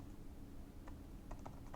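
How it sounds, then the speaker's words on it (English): Computer keyboard typing, a handful of quick light keystrokes clustered near the end after a short pause, close and fairly quiet against a steady low background hum. "Why do I keep typing S?"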